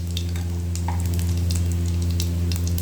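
Whole cumin seeds sizzling in hot cooking oil, a continuous close crackle with scattered pops over a steady low hum from the stove or fan.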